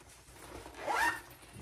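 A single quick zipper pull runs along a large pocket of a fabric travel organizer, close and fairly soft, in an otherwise quiet room.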